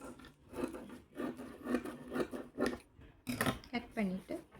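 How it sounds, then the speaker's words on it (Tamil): Scissors snipping through paper sheets along a center line, a run of short, close crisp cuts in a quick rhythm, pausing briefly before a few more rustling snips. "இந்த சென்டர் லைனை கட் பண்ண"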